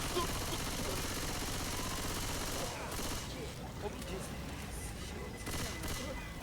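Rapid gunfire and bursts of shooting from the Left 4 Dead 2 video game crackle continuously, fairly faint, with sharper volleys fading toward the end.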